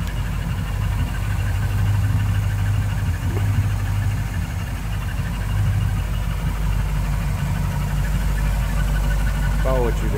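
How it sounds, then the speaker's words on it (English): A 1955 Ford Customline sedan with a Ford Y-block V8 idles steadily, a continuous low rumble heard close and loud throughout, with a voice talking over it. "Ford Y-block V8."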